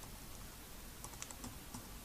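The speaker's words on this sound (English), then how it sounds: "you want to type in WordPress" Fingers tap out a coupon code on a computer keyboard, a short run of light, closely spaced keystrokes heard alone at a faint, near level.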